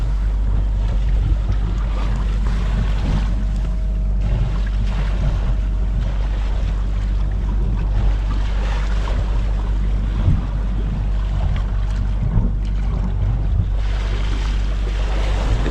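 Steady rushing of roughly one-metre ocean swell from astern around a sailboat heading toward the Aleutian Islands from Japan, with constant wind and water noise and a low rumble filling the whole stretch, no voices.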